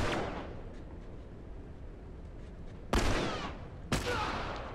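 Gunfire in The Last of Us video game: a fading blast at the start, then two sharp, loud shots about a second apart, each trailing off in a reverberant tail.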